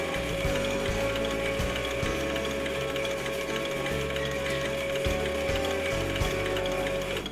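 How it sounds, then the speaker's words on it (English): Gasoline direct-injection fuel injectors fire in sequential mode on an ASNU test adapter, producing rapid, rhythmic mechanical ticking and clicking that repeats steadily and close up, with no talking. "In faster modes, the injectors look like they are firing simultaneously, but they are in fact running sequential mode."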